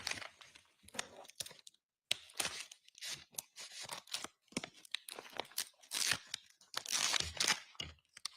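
Scissors cut and tear open a plastic evidence bag in a courtroom, a close series of sharp snips and crinkling rips in uneven bursts with short pauses between them.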